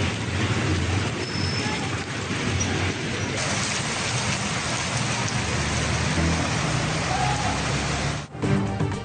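Heavy downpour in Punjab, Pakistan, a dense continuous hiss of rain on surfaces, steady and loud from start to finish with a brief dip near the end.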